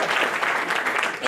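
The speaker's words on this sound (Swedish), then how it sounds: "Så ge honom en varm applåd." Conference audience at a Swedish self-service business event applauding a speaker, a brief, even burst of many hands clapping at moderate loudness.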